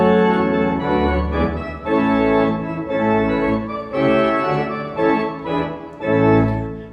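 A synagogue pipe organ plays the melody of the Friday-night song Yigdal, full and sustained with swelling chords and a steady phrased pulse, loud and alone.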